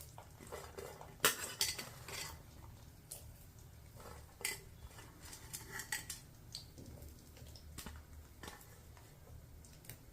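Chopped pirandai (adamant creeper) pieces tumble into a pan and are stirred with a metal spoon, giving irregular clinks and scrapes against the pan over a low background, close by.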